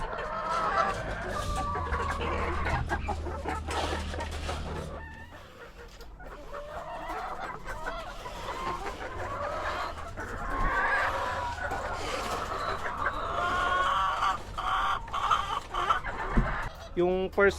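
A busy flock of chickens, a fourth batch of hens, clucks and squawks throughout, with a rooster's crow and a steady low hum underneath.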